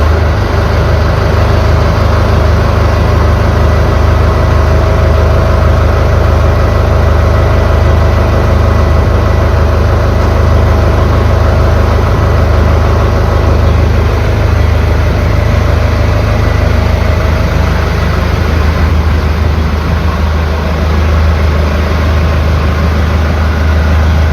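A Japanese Kubota 95 hp tractor with a slightly weak battery runs its diesel engine in a loud, steady low rumble that holds unchanged throughout, with no voices.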